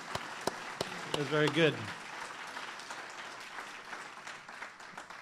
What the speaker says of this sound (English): How about a round of applause for that session?